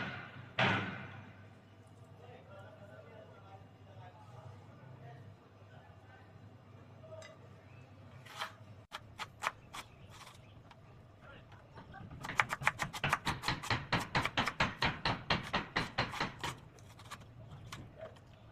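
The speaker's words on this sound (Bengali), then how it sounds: "এবার এগুলোকে কুচি করে নেব পেঁয়াজটা খুব মিহি কুচি করতে হবে" Knife rapidly and finely chopping capsicum and onion on a board, first in a few sparse cuts, then a dense run of quick, even, close-up chopping strokes, with a voice talking early on.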